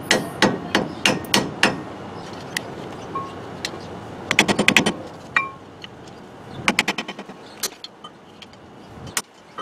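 Sharp metallic hammer blows ring out on the suspension of a 2001 GMC Savana G3500 while knocking a ball joint loose, coming in quick irregular bursts and clusters of strikes close by, with no speech.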